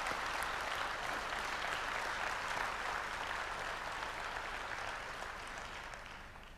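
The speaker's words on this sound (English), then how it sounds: "Let's give him a big round of applause, Mr. Gregg Maughan." Audience applause at a business talk: a dense, steady wash of clapping from many hands that holds at the same level, then gradually fades toward the end.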